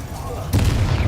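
A Confringo blasting spell goes off in Hogwarts Legacy: a sudden loud burst of explosive noise cuts in about halfway through, over a low rumble, and rolls on as a dense crackling roar to the end.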